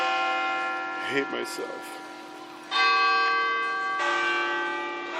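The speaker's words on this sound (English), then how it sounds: "Ring those bells." Church bells ring in San Francisco with sustained, layered metallic tones, and a fresh strike swells the sound near the middle and again toward the end while someone talks briefly over them.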